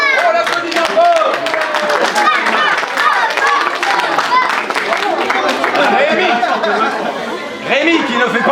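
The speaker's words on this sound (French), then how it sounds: "On l'applaudit bien fort." Audience clapping and chattering as a boy is called up on stage at a live comedy show, with laughter and lively crowd voices mixed throughout.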